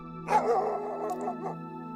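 A dog barks in the background while someone tries to record at home; the short bark sits over a steady electrical hum and sounds somewhat distant.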